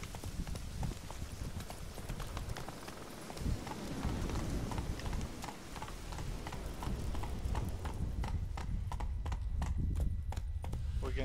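Horse hooves clip-clop steadily in a video game, the rhythmic thuds overlapping a dense, noisy background bed, closer and crisper toward the end.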